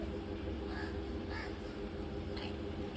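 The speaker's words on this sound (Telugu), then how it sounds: "క్రో క్రో కాకి వస్తుంది" A crow caws a few times, faint and somewhat distant, over a steady background hum at an outdoor family ceremony.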